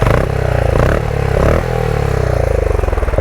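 Benelli Imperiale 400 motorcycle, a 1950s-style single-cylinder design, idling close up through its exhaust, a steady low throbbing pulse with a couple of brief blips in engine note, loud and alone with no talk.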